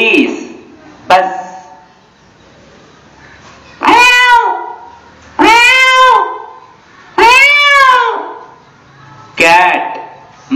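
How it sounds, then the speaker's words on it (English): A cat meows four times in drawn-out, rising-falling cries, each separated by short pauses, loud and close, after a brief opening sound. "Cat, meows."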